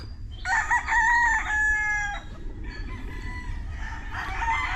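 A rooster crows loudly and clearly, followed by a second shorter crow, with chickens clucking softly in the background.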